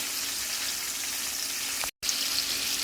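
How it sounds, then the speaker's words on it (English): Ground lamb browning in a hot pan, a steady loud sizzle and crackle of frying fat that runs without pause apart from a brief cut near the end. "We are browning the lamb."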